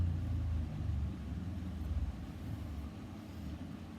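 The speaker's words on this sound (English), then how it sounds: "sorry if you can hear the car going past," A car passes outside, heard indoors as a low, steady rumble with a slight swell midway, faint and distant, with no talking over it.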